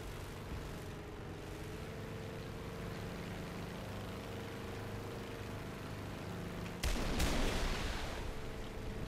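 SNEB rockets launched from an F4U-7 Corsair in War Thunder, an abrupt loud burst of firing that cuts in late over a steady droning engine hum.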